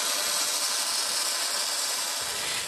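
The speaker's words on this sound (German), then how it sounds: "Wie beim Löten verwendet man beim Schweißen ein bindendes Metall" Electric welding with 1 mm steel wire during the building of a chimney, a steady loud crackling hiss that runs unbroken throughout at close range, with no voices.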